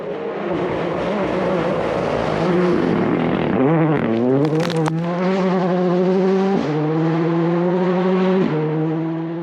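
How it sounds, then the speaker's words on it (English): Rally car on a gravel forest stage, its engine rising and falling through gear changes as it passes nearby, loud and continuous with sharp revving peaks echoing off surrounding trees. "This is why we love forest rallying. Just the way the sound bounces around the trees."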